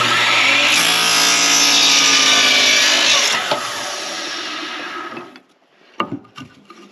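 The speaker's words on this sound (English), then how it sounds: "Kind of an awkward position to saw in with the camera right there, but right on the mark there." A power saw cuts through a wooden deck rafter with a loud, close, steady buzzing whine that fades as the cut finishes, followed by a few sharp knocks of wood.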